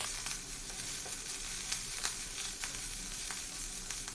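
Onion paneer masala with fresh coriander leaves is sautéed in a pan over a low gas flame for Afghani paneer, giving a steady close sizzle with scattered scraping stir strokes throughout.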